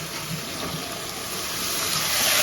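Cut potatoes dropped into a bowl of water, heard as a continuous close splashing, running-water wash that swells slightly louder toward the end, with no voices.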